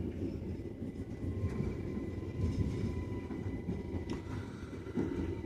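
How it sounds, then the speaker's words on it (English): A train stands at the platform at Hurst Green station, giving a continuous low rumble with a steady mechanical hum, fairly close and without talk. "There we are, Hurst Green. The train at the platform."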